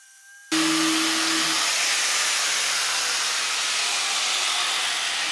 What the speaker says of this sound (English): I'm just going to try and grind it off